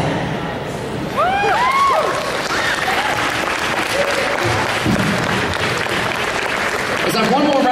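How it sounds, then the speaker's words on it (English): An audience at a New York comic convention stage reading claps for the readers and actors, a steady roomful of applause with whoops and cheers rising over it, fairly loud and close. "Let's have one more round of applause for all of our readers, all of our actors"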